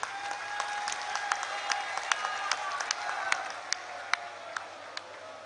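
Applause from a crowd at a political speech by Punjab Chief Minister Mann, fairly faint and distant, a soft wash of clapping with scattered sharper individual claps standing out.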